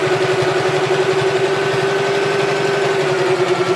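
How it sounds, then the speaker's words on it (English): A sewing machine stitches along a fabric edge with a loud, steady motor whir and a fast, even buzz that runs continuously, alone and close. "we're just going to sew along the edge here"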